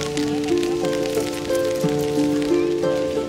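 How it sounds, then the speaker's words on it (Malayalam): Rain falling outside a mosque compound, steady hiss of drops pattering on surfaces with a faint tonal melody running underneath, no talking. "മഴ നന്നായി ചാറിത്തുടങ്ങി"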